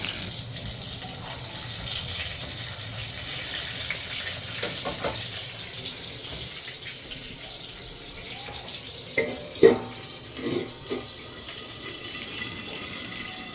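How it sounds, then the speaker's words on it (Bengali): Pointed gourd (potol) frying in a pan sizzles steadily at moderate level, with a few louder clinks and stirring taps near the end and faint water-like noise in the background. "আর দেখো পটল ভাজা হচ্ছে"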